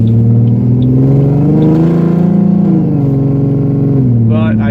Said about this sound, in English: I love this setup, this exhaust setup